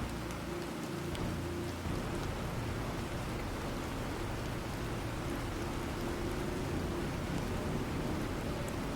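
Rain in the video game Planet Crafter, a continuous even hiss of falling water with a low rumbling undertone, steady and moderately loud for the whole span.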